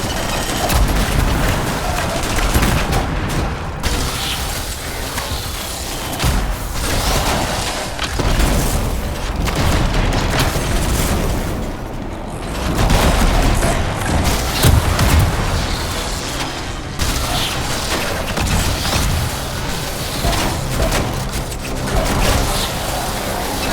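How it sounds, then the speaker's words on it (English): Dense gunfire and explosions from battling scars and sentinels in the video game Anthem, with rapid bursts and heavy booms layered continuously and loudly throughout. "Scars and sentinels and a lot of gunfire."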